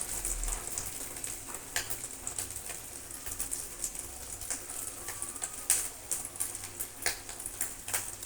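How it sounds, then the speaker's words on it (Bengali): Fish roe frying in a pan: a faint, steady crackling sizzle with scattered sharp pops over several seconds, with no voices. "দেখুন মাছের ডিম এখনও ভাজা হচ্ছে"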